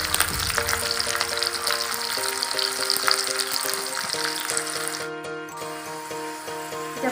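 Onions fry in hot oil with a dense, loud, continuous sizzle and crackle, and a low steady hum runs underneath throughout.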